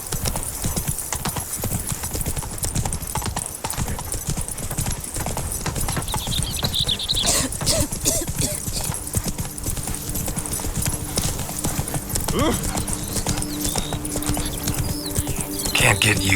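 The horse Roach in Witcher 3: Blood and Wine, hooves clip-clopping in a steady rapid rhythm throughout, close and loud, with faint in-game ambience and a brief snort.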